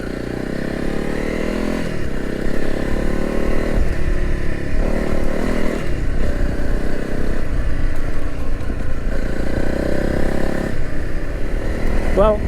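A Honda CRF 300 Rally motorcycle being ridden, its engine rising and falling through gear changes under steady loud wind rumble, close to the rider.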